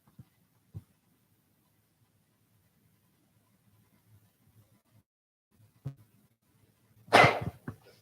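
One sudden sneeze bursts out near the end in a quiet meeting room during a California citizens' initiative review panel, following faint scattered shuffles and small noises.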